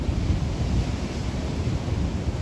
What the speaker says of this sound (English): We're walking down to see the waves from this angle because it's cooler.